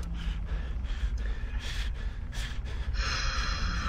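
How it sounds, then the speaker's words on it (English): Crackling animatronic breathing in the horror video game Those Weeks at Fredbear's 4, a run of raspy snorting breaths and gasps that swell and fade repeatedly. A sharper tonal wheeze rises near the end. "that crackling noise when he was breathing"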